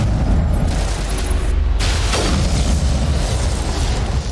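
A rocket blast in a video game bursts loudly with a deep booming rumble, followed by lingering low roar and debris noise.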